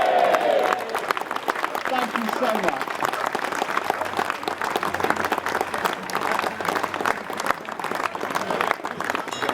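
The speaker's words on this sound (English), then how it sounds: "Could you give them please the most resounding cheer?" An audience at the Dunmow Flitch Trials breaks into sustained, resounding applause with some cheering, a dense crowd of clapping hands continuing steadily throughout.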